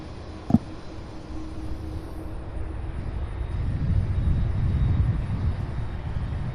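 A jet airliner takes off at SDF airport in Louisville, Kentucky, heard from a distance as a low rumbling roar that slowly builds and swells, with a sharp click near the start.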